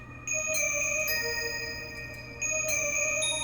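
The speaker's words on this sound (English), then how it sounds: "And then one called Dream Pluck." A bright Dream Pluck synthesizer patch in FL Studio plays short sparkly plucked notes in a cheerful melodic phrase. The notes ring out clear and close, each with a crisp attack and a shimmering decay, with no voices present.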